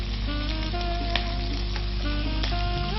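Spice powders frying in oil with ginger and garlic paste and turmeric for a prawn curry with capsicum, giving a steady, dense sizzle throughout with a few faint utensil clinks.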